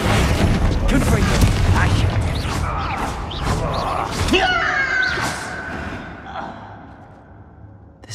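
Confringo fire spell explosion in the video game Hogwarts Legacy inside a closed mine, a loud rumbling blast with crackling and a whooshing tail that fades toward the end, while a voice speaks.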